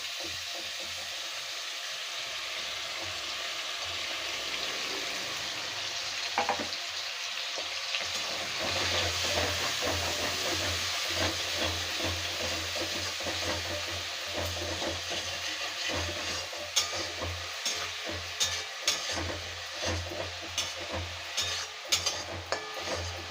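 A large half-ground onion paste sizzles steadily in hot ghee for a Bengali prawn malai curry, a continuous hiss with occasional spoon scrapes and clinks growing more frequent later on.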